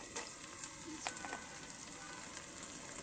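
Ginger and garlic paste fries in hot oil in a beef and vegetable curry, giving a soft, even sizzle with faint crackles and light stirring clicks, heard alone and fairly quiet.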